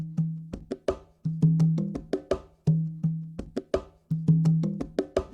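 A percussion layer for a sampled beat plays alone: a busy, looping pattern of sharp hand-drum-like hits with short tonal decays, repeating roughly every one and a half seconds at moderate loudness.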